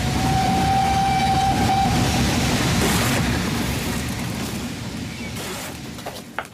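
Train running on rails as a sound effect in a BBC radio drama of Sherlock Holmes' The Final Problem: a steady, loud rumbling clatter with a drawn-out whistle tone early on, fading slightly toward the end, with no talking.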